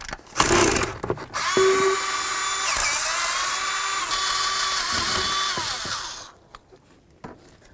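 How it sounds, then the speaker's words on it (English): A power tool removes the two coil mounting bolts on a Ram 1500 from the 2009–2018 generation, whirring in a sustained high-pitched run for several seconds after a brief clatter, then stopping abruptly. "Now let's go ahead and remove our coil from here by removing the two mounting bolts."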